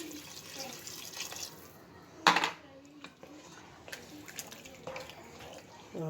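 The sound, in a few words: pouring two bowls of water into a pot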